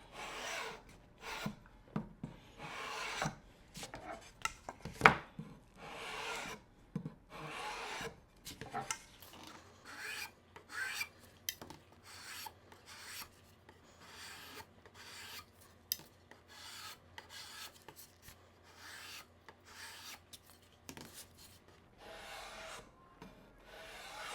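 Repeated rough rasping strokes of a rasp shaving down a racquet grip, close and steady, pausing briefly between passes; no one speaks.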